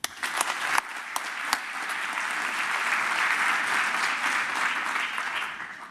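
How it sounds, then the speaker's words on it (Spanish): Steady applause from a seated audience at an entrepreneurs' conference in Santiago, starting with a few sharp separate claps and swelling into a dense, even wash of clapping that holds for several seconds. "Aplauso, por favor."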